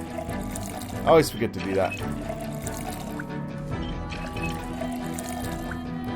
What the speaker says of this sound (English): I should probably fill up my water, though.